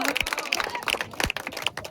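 A crowd claps for a cricket player at a post-match presentation. The applause is a quick, scattered patter of hand claps, fairly close and moderately loud, with a voice faintly underneath.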